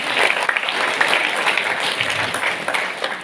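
A school audience claps steadily for a senior high school principal in Mojokerto, the applause continuous and moderately loud throughout with no speech over it.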